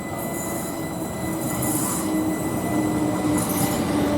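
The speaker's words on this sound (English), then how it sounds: "Comes my train now, viewers." Southern Class 377 electric train arriving at a platform, a close, steady rail rumble with squealing wheels and brake noise, with no talk over it.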